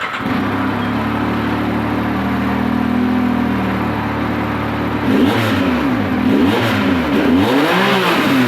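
Yamaha YXZ side-by-side with a free air box mod, its engine idling steadily and then revving in repeated rises and falls with a rattly edge, loud and close with no talk.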